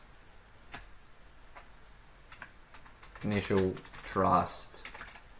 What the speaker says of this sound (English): not doing too much typing today.